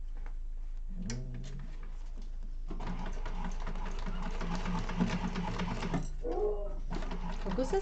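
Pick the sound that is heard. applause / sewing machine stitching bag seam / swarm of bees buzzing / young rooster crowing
sewing machine stitching bag seam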